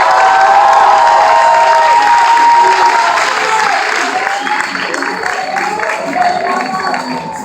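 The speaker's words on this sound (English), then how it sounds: "Please give a round of applause to Ufoma Okoriola" A crowd applauds at a 2017 class event, steady dense clapping mixed with cheers and shouts that lasts the whole stretch and tapers slightly toward the end.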